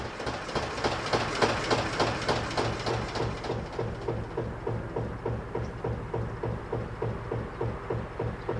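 A narrowboat's 2.5-litre high-compression twin-cylinder diesel engine runs steadily with a fast, regular chugging thump, loud and close, its pulsing rhythm continuing without pause.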